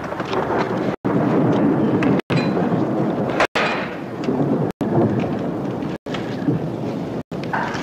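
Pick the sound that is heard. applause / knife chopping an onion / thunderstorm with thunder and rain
thunderstorm with thunder and rain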